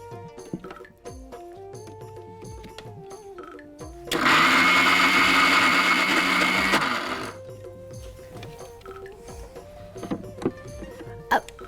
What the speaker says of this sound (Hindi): सबसे पहले मैं मिक्सी की तरफ जाऊंगी।